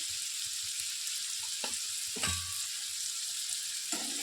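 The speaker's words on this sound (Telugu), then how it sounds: "సాల్ట్ వేసిన తర్వాత ఉల్లిపాయ ముక్కలు త్వరగా వేగిపోతాయి" Onion pieces fry in a pan with salt and turmeric, giving a steady broadband sizzle with a couple of brief stirring scrapes, moderately quiet and heard alone without voices.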